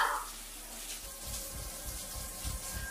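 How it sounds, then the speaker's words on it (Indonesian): A shower running on its own in a bathroom during a horror film scene, a soft steady hiss of water with low dull thuds, fairly quiet and heard alone. "dirinya mendengar shower yang menyala sendiri"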